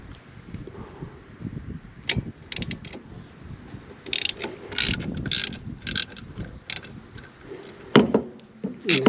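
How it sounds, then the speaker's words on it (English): A ratchet wrench loosening the power steering bracket bolts on a Jeep CJ5 with an AMC 304 engine, giving repeated bursts of rapid clicking pawl ratcheting, close and crisp, with faint clanks of tools in between. "I've got to loosen the bracket for the power steering"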